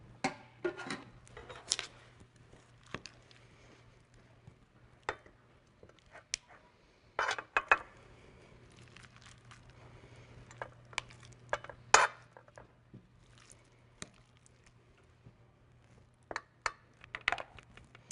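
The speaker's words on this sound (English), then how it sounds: "I'm going to scoop the meatloaf mixture into each muffin cup until they're all full" Meatloaf mixture being scooped into a muffin tin, heard as many small irregular clicks and scrapes of a utensil against metal cups over a faint steady hum, close and quiet, with no talking.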